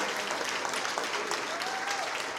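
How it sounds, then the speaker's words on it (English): Steady, dense applause from a gala fundraiser audience honoring donors fills the room, a continuous wash of many hands clapping at moderate distance with no individual claps standing out. "Let's give Hans and Kristen a big round of applause."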